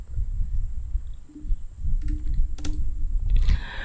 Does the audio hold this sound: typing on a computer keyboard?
yes